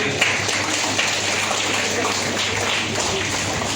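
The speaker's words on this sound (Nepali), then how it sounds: "हजुरहरू सबैले हात ताली दिएर उहाँलाई" An audience claps at a music video release ceremony, a dense and even patter of many hands at moderate loudness that holds for a few seconds.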